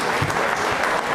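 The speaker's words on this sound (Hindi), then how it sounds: "अनुराधा जी के लिए तालियां जोरों से बजाइए।" A brief burst of dense audience applause rises during a televised quiz program, steady and fairly loud for about a second.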